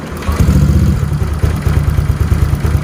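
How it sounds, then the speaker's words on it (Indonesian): A bored-up Honda Vario 125 scooter engine upgraded toward 150 cc idling close by, a loud, steady low rumble with a rough, rapid ticking clatter from the valves throughout. "Di sini masih ada sedikit suara kasar pada bagian klep"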